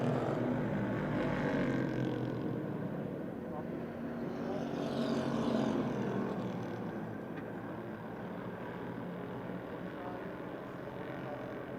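Stock cars, including an 8-cylinder Oldsmobile and a Monte Carlo, race side by side at Motordrome Speedway, a steady engine roar running throughout with an announcer talking over it.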